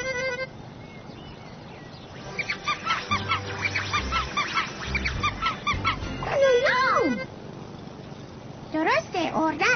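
A voice in a children's cartoon imitates a duck with a run of nasal honking quacks, mixed with bird-like calls and other cartoon voices, moderately loud with bursts clustered near the middle and end.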